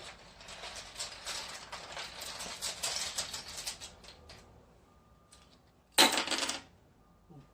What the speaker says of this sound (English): Wow, that was a very non-explosive rune throwing, and all of them are face down.